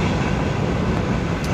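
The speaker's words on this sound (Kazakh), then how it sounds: "Қазір мына лашықта, міне, пойыз өтіп жатыр тура." A train rumbles past a small shack, a loud continuous roar of wheels and carriages that stays steady throughout with no talk.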